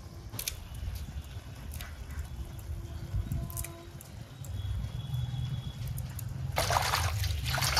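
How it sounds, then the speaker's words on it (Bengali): Fresh coriander leaves swished and rinsed in water in a home kitchen, giving a steady close trickle and splash with soft dribbling, and a louder gush of running water near the end. "এখন ধনেপাতা বেছে ধুয়ে দিয়ে দিই"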